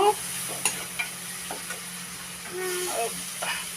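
Ingredients with turmeric and coriander sizzling in a hot pan for street-style egg noodles, a steady moderate hiss with occasional light scrapes and clinks of stirring.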